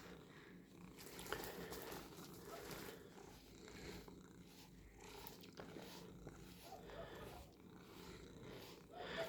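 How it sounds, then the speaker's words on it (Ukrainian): Low, steady cat purring runs throughout at close range, with soft handling and rustling noises mixed in. "Чуєте, як мурчить?"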